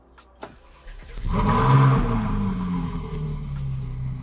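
A few clicks, then a Ferrari 458 Italia engine cranks and roars to life loudly up close, settling into a deep rumbling idle.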